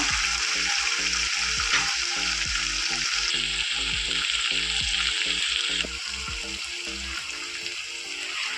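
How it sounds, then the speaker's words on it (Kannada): Vegetable upma ingredients fry in oil in a pan, giving a steady close sizzle with a regular ticking or clinking pattern underneath; it quietens slightly near the end, with no talk. "ಒಂದು 2 ನಿಮಿಷ ಎಣ್ಣೆ ಒಳಗೆ ಫ್ರೈ ಆಗಿದೆ."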